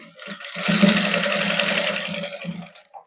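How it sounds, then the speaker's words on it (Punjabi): A sewing machine stitches lace onto a suit in one steady run of fast, close mechanical whirring, about three seconds long, with a brief start and stop. "ਹੁਣ ਆਪਾਂ ਲਾ ਦਿੰਨੇ ਆ ਸਲਾਈ"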